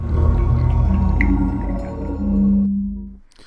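SteamOS Big Picture mode startup sound: a loud, swelling low synthesized tone with a shimmering overlay, lasting about three seconds before fading out, heard alone.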